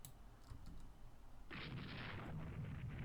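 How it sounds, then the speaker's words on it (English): Heavy naval guns fire in the battleship strategy game Rule the Waves II, a muffled, fairly faint broadband blast arriving midway and rumbling on to the end after a quieter opening. "The Nesk class being hit another time by our heavy guns."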